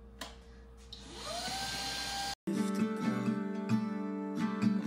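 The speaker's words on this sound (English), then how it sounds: "I really want to vacuum, but it's too early to like fully vacuum the floor" A vacuum cleaner drones as it picks up spilled sugar from a floor, starting with a rising whine, cutting out briefly, then restarting with a strong steady hum and intermittent rattling pickup noises.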